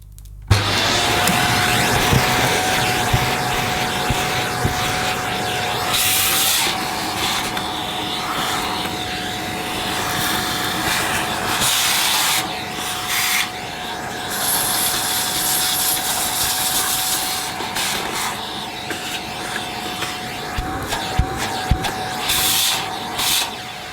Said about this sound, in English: Just going to vacuum up this mess.